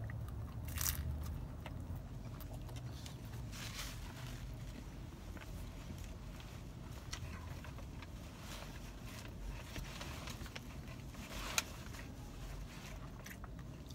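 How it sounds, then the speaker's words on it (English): Thin cheese is bitten close up, giving a few faint, sharp crunches over a quiet, low background hiss. "Listen to the crunch."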